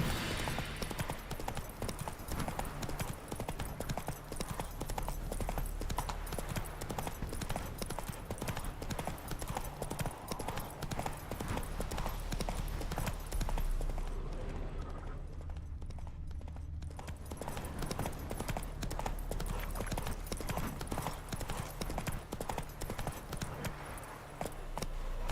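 Hooves of Roach, Geralt's horse in The Witcher 3: Wild Hunt, gallop in a steady fast clip-clop that runs almost unbroken, loud and close, with a brief lull in the middle and no talk.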